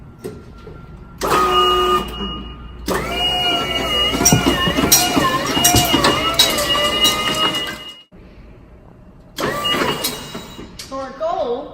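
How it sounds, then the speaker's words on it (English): A motorized aerial lift raises camera gear, giving a loud, close mechanical whine and hum in bursts that start, stop with a clunk, and resume, with pitch shifting as the drive works, and people talking alongside. "And we do this with our lift."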